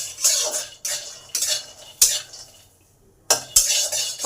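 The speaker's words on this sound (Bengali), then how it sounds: "সবার প্রথমে চিনি বাদামটাকে আগে ভেজে নেব।" Peanuts being dry-fried and stirred in a pan, with several bursts of scraping and rattling spoon strokes against metal, separated by brief pauses, close and fairly loud.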